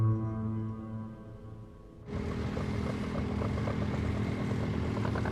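A tractor engine runs while driving at about 30 km/h, starting as a low steady drone that swells abruptly into a louder, broadband rumble and keeps going at an even level with no talk over it.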